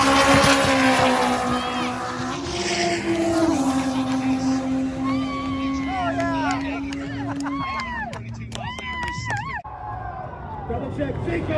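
An all-wheel drive Honda Del Sol and a BMW at a drag strip launch, a loud engine drone that rises in steps as the cars pull away, under excited commentary and crowd voices.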